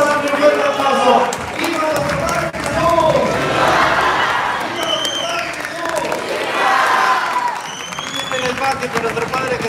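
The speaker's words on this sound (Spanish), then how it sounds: "Vamos a darle un fuerte aplauso" A crowd at a procession for Padre Jesús del Calvario in Lagos de Moreno applauds and cheers loudly throughout, a dense sustained roar with clapping and shouting that swells and recedes in waves, with voices mixed in.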